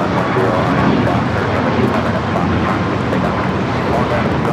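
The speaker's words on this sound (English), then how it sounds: "This flight taking off to Austin, American 2608 on the MAX 8" An American Airlines Boeing 737 MAX 8 takes off at LAX, bound for Austin, giving a steady, loud broadband jet roar that holds for several seconds. Talk carries along underneath it.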